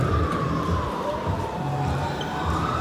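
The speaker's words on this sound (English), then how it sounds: "This is such a busy street in Los Angeles. You can hear the police cars and ambulances." Sirens from police cars and ambulances on a busy Los Angeles street, a long wailing tone sweeping slowly downward, somewhat distant, over constant dense traffic and crowd roar.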